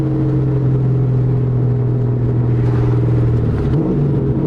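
A 1999–2004 New Edge Ford Mustang GT V8 with 4.10 gears accelerates hard in fourth gear from about 50 mph, its engine a loud, close, steady rumbling drone that climbs in pitch near the end.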